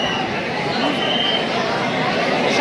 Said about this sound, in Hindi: भीड़ आप देख सकते हैं बहुत ज़्यादा है।